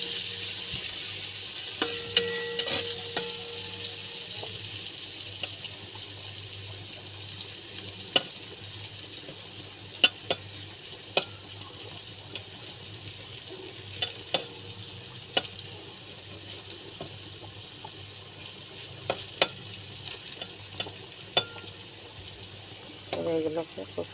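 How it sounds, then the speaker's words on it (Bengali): Vegetables fry in a pan for a bitter gourd and ridge gourd dal, giving a soft, steady sizzle broken by scattered sharp clicks and taps of utensils, with a person talking at times. "এবার এগুলোকে খুব সুন্দর করে ভেজে নিতে হবে, লাল লাল করে।"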